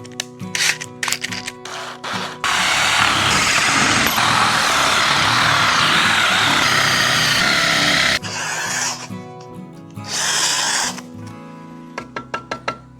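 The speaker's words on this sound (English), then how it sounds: "we'll drill down in that piece of wood about 3 inches or so" A power drill bores into a piece of wood with a 1-inch bit, giving a long, loud, steady whirring run in the middle, flanked by short bursts and clicks of the tool starting and stopping.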